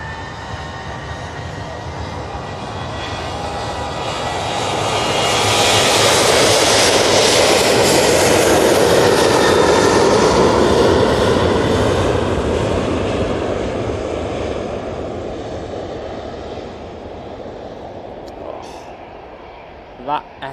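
An Etihad airliner's jet engines at Manchester Airport build into a loud, broad roar that peaks mid-way and then slowly fades as the aircraft moves off, with someone talking over it.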